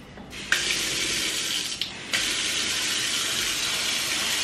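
Tap water pouring into a dish of white bread to soak it for bread pudding, a steady close rushing stream that starts abruptly, with a brief break partway through and no talking.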